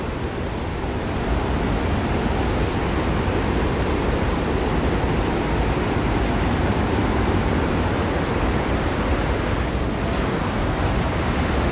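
Water rushes steadily at a waterfall, a dense, continuous roar that stays loud and unbroken throughout, with no voices over it.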